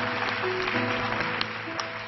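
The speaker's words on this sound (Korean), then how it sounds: "우리 큰 박수로 환영하고 축복하겠습니다" A church congregation at Onnuri Church applauds to welcome the pastor to the pulpit, a sustained, even roar of clapping that fills the room from start to finish without talk.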